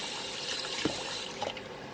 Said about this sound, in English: So I'm going to wash it in some cold water, and you need to wash out all the starch and the dirt